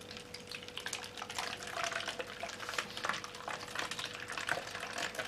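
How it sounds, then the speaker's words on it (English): Cider poured from a bottle into a vessel for home cidermaking, a steady liquid trickle and splash lasting several seconds with small bursts and glugs, close and fairly quiet. "I'm just going to pick up the bottle of cider and start pouring"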